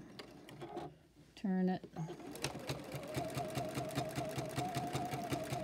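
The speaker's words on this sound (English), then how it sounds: "once I'm done basting, I am going to do a little bit of top stitching" A sewing machine top stitching through a quilted folded-star hotpad starts after a short spoken remark and then runs in a steady, close, rapid rhythmic whir of needle strokes.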